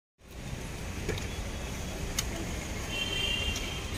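Steady low road rumble fills a car cabin on a drive home at night, with faint ticks and a brief high whine in the background; no one speaks.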